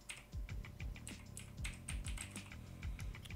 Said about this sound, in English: type in tactical on my keyboard